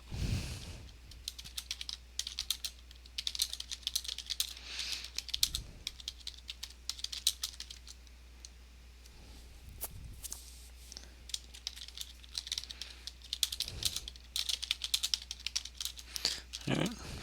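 Close, busy typing on a computer keyboard, a continuous patter of clicky keystrokes in irregular bursts over a low steady hum, with a few louder knocks and no clear speech.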